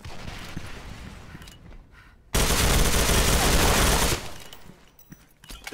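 Rifle gunfire in a first-person shooter clan war match, a loud sustained burst of rapid shots in the middle after scattered softer shots, with brief speech earlier.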